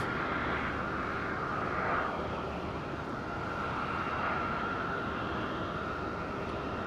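An aircraft taking off from runway 23 at Madeira Island Airport, a broad, steady engine roar that holds loud and even the whole time, with no voices over it.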